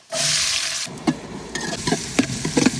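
Onions, big and small, frying in hot oil in a pan with cinnamon, cloves and cardamom for Ramadan nonbu kanji: a steady loud sizzle at first, then quieter crackling with several sharp stirring clinks and knocks.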